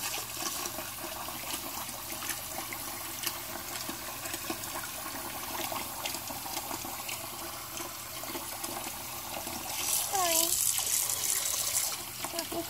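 Warm tap water runs steadily and splashes close by while fleas are washed off an animal, with a brief rise in flow near the end and low background sounds.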